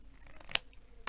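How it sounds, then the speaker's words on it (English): Scissors trim a paper crown, two sharp, close snips about half a second apart over quiet background. "I wanted to just trim down this crown better because it's not quite right"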